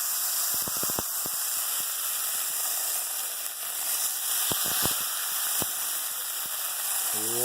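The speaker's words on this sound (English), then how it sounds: "You can hear it sizzle beautifully" Butter sizzling and frying in a hot sauté pan, a steady close hiss with a few light clicks and pops of utensils scattered through it, no voices.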